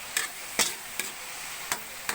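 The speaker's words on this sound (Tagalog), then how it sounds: "Halu-haluin." Pakbet vegetables stirred in a pan with oyster sauce, a few sharp utensil scrapes and clicks at irregular intervals over a soft, faint background hiss.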